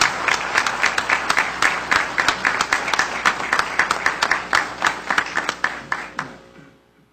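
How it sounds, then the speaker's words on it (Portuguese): A small audience at a public municipal hearing applauds, with distinct individual claps in an uneven rhythm, loud and close, thinning out and fading to silence toward the end. "E peço uma salva de palmas para este extraordinário presidente."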